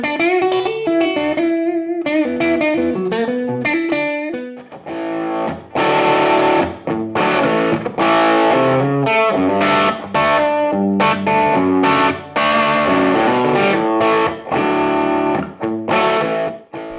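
G&L ASAT Deluxe electric guitar with a push-pull coil tap, played through distortion: a melodic run of single notes, then loud, chunky rhythmic chords with short choked gaps, close and alone.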